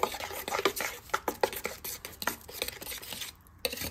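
A thick mixture of pumpkin, jaggery, cardamom powder and sesame seeds is stirred with a spoon in a metal pot, giving a steady run of close scraping and clinking strokes with no talking.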